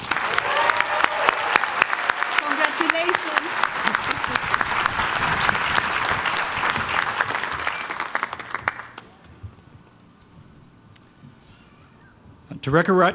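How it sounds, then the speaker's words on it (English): Sustained applause for graduating students at a university architecture school commencement ceremony, steady crowd clapping for about nine seconds that fades out, then a brief burst of noise near the end, with a voice briefly speaking. "Please give all these students another round of applause."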